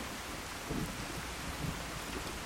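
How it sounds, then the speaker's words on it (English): Steady rain pours in Fallout 4, a dense, even wash of hiss filling the whole stretch with faint low rumbles underneath, no talking. "I thought the rain had returned. Oh, it has."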